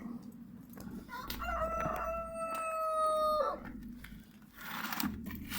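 A rooster crows once in a long drawn-out call inside a chicken coop, fairly close, with softer clucking and rustling from hens around it before and after.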